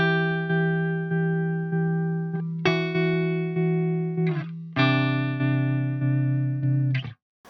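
Electric guitar played through a Bleak District Wonder Table tremolo pedal set to a gentle, shallow rate, with sustained chords pulsing in slow regular volume swells and several fresh strums along the way.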